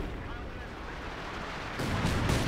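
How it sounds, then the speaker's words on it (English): A light artillery barrage in a World War II strategy game pitting US forces against the Wehrmacht: a dense, continuous rumble of distant blasts that swells louder near the end, with no distinct separate shots. "we have a light artillery barrage"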